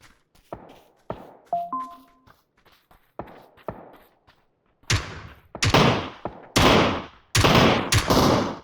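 PUBG gunfire rattles through the match: scattered distant single shots early, then louder, close sustained bursts of automatic fire in rapid clusters toward the end, with no talking over them.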